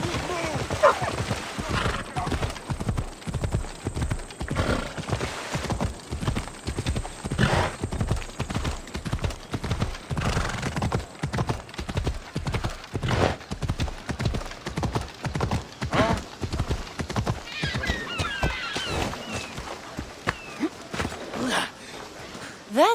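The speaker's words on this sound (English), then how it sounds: "That's a nice horse, Socrates." Steady clip-clop of horse hooves at a brisk gait runs throughout, with a couple of whinnies, while someone talks over the galloping, in the video game Assassin's Creed Odyssey.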